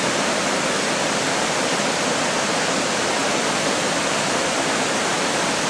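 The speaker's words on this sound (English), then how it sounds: "this is the waterfall Sean and I were at. And the river is called Atelopos" Rushing waterfall on the Atelopos river at the Rara Avis rainforest preserve, a steady broadband roar with no change throughout and no voices.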